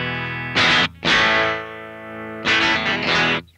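Electric guitar through a Vox Amplug AC30, cleaned up with the guitar's volume knob: two pairs of strummed chords with a mild crunch, each ringing and decaying between strums, with no talk.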